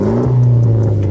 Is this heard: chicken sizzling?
no